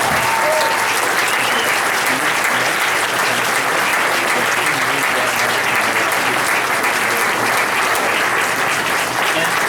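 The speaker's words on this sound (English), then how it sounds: "could everybody join me in giving Tamar an ovation for 17 years" A standing ovation at a community meeting with the LA City Attorney, a room full of people clapping loudly and steadily for nearly ten seconds without pause, dense and close.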